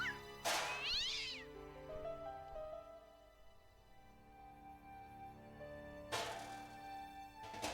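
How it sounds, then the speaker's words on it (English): A cat meows twice in the Broken Sword video game, a drawn-out wavering cry followed by a pause and a second sharp meow, close and clear with no talking. "Like a cat."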